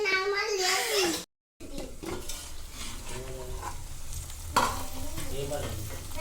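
Chicken frying in a pan sizzles with stirring and scraping, heard beneath a voice and other talk, with a brief dropout partway through.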